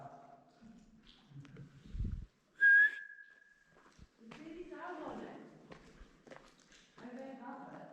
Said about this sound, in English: I just heard somebody whistling back.